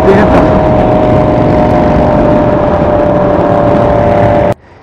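A car accelerates on a road in Daytona Beach, its engine roaring loud and close for several seconds before cutting off abruptly near the end.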